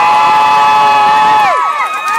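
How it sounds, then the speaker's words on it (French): An audience at a book signing in a FNAC store in Amiens cheers loudly. Shrill sustained screams and whoops ring out close and dominant, then waver and trail off near the end. "je vous signale que la dédicace ne commence que si j'entends vraiment des applaudissements"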